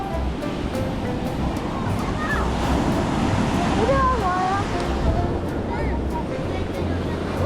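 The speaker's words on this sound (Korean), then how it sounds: "우와 진짜 높아 파도" Ocean surf rolls and crashes steadily near a campsite in Spain, a dense, continuous wash of water under wind buffeting the microphone, with a voice faintly audible over the roar.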